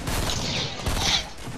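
Gunfire from the Fortnite video game, with rapid overlapping shots rattling in quick bursts throughout and no talk over it.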